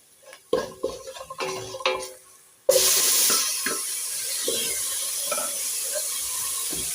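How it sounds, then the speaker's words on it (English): Tomatoes tipped into a cooking pot of beans: a few clattering knocks and taps against the pot, then a steady loud sizzle and bubbling hiss with occasional light scrapes, no talking. "And now let's put our tomatoes."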